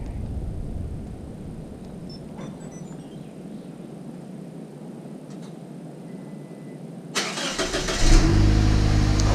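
A Scion xB with a freshly swapped muffler cranks and fires up near the end, a loud engine burst and rumble cutting in after several seconds of quiet background hiss and faint shuffling.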